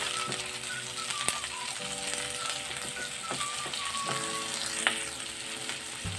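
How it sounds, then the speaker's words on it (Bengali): Sliced onions sizzle steadily in hot oil for a dry Bombay duck fish mash, with scattered metallic clinks and scrapes from stirring, moderately quiet and close. "কেটে রাখা পেঁয়াজের স্লাইসটা দিয়ে দিলাম দিয়ে ভালো করে আমি একটু মিশিয়ে নিচ্ছি তেলের সঙ্গে"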